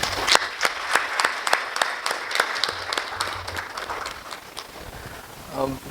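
Audience clapping after a Hindi poetry recitation, a crisp burst of individual claps in an uneven rhythm over about four seconds that thins out and fades, with a voice starting to speak at the end.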